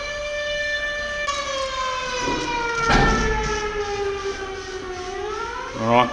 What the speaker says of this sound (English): once again we've got an air raid siren in the background there